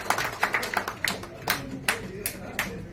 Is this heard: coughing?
no